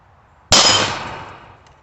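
A single sharp metallic clang as a shot strikes a 3/8 inch hot rolled steel plate, loud and close, followed by a ringing decay that fades over about a second.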